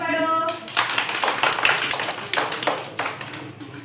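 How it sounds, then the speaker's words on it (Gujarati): Children clapping their hands together at an anganvadi, a burst of several uneven claps following a brief voice, repeated in loose rhythmic bursts, close and moderately loud. "ચાલો તાળી પાડો"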